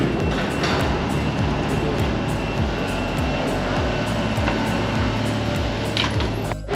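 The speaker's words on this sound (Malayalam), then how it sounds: "ഈ കാണുന്നതാണ് ഡ്രൈവറില്ലാത്ത മെട്രോ കേട്ടോ" A driverless automatic metro train in France rumbles steadily, with a continuous low rolling drone and regular rhythmic clatter of wheels over track joints, loud and close throughout.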